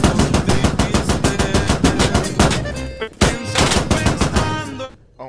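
Sustained automatic gunfire fills a military video game battle, with loud rapid bursts firing in quick succession, a brief gap, then more volleys before trailing off.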